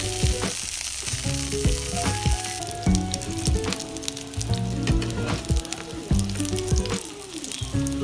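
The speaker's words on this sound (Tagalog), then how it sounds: "E-prito naman ang talong hanggang sa mag-brown." Eggplant crackles and sizzles in hot oil in a pan, fried until brown for kare-kare, a busy, close frying sound with scattered pops, and faint music playing underneath.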